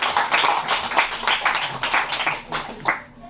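Audience applause at an improv comedy club show, a dense burst of many hands clapping that swells and fades unevenly before dying away at the end.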